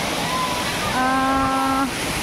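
A waterfall at a cool scenic spot in Assam gives a steady, broad rushing roar throughout, with a brief sustained horn-like tone rising over it midway.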